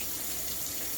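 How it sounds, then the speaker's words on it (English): Rinse water from nixtamal corn pouring through a strainer, a steady, close rushing splash with no pauses. "And then I just strain off into my strainer that water."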